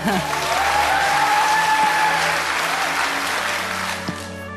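A studio audience applauds after a live music performance, a loud sustained clapping that swells and then slowly fades over several seconds, with a few voices mixed in.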